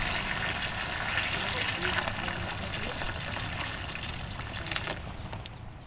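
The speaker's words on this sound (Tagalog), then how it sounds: "Tapos lagyan na natin ng tubig." Water gushes and splashes as it is poured into a pot for chicken tinola, a continuous running pour heard alongside kitchen background noise.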